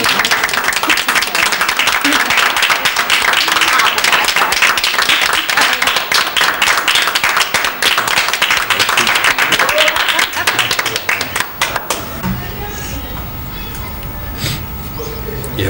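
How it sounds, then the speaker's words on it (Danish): Audience clapping and applauding at a Christmas show, a dense, loud, sustained burst of many hands for about twelve seconds before it thins out, with some voices mixed in. "Så må I godt klappe alt det her."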